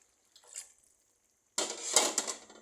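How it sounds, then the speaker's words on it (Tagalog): A little water goes into a boiling pot of mung beans, heard as a soft splash and clink, a pause, then a longer, louder close pour with hissing and splashing, alone without talk. "Lagyan natin ng konting tubig"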